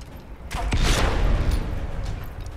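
A grenade goes off in Dying Light, a heavy booming blast followed by a rumbling chain reaction of further bursts, loud and close.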